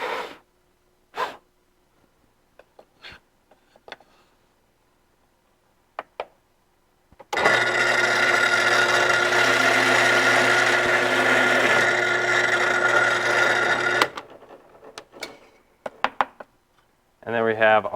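A power drill bores a hole in wood for a gumball box in one loud, sustained grinding run of several seconds, flanked by short clicks, knocks and handling noises close by.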